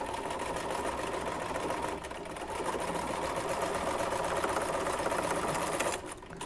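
A sewing machine runs steadily while stitching a quilt block seam, a continuous close mechanical whir that briefly dips partway through and stops just before the end.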